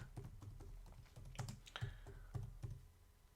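Quiet keystrokes tap out an irregular run on a computer keyboard as a short entry is typed, a dozen or so clicks at close range with no talking.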